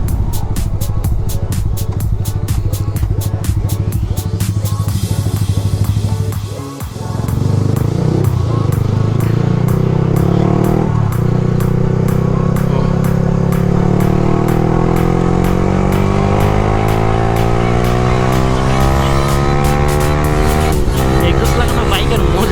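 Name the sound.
Yamaha R15 V3 motorcycle with modified exhaust riding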